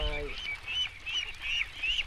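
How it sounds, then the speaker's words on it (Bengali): Young ducks about fifteen days old on a riverside duck farm quack and honk in short repeated calls, fairly close, over a brief voice at the start. "এখানে কতগুলো হাঁস আছে?"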